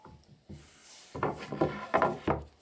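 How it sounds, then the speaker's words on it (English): A handsaw trimming a strip of pine to length: a handful of rasping back-and-forth strokes, close and fairly crisp, growing stronger after a couple of slow starting cuts. "so I'll just trim it to length with a handsaw."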